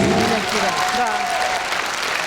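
Concert hall applause for a performer, a short dense burst of clapping from the audience beneath a presenter's voice that fades partway through.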